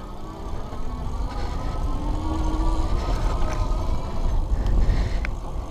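Pedego Classic Interceptor e-bike at full throttle under a 135-pound rider, a steady motor whine and rolling road rumble with wind, continuous and fairly loud, with no talking.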